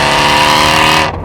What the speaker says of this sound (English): This is what 850 horsepower sounds like.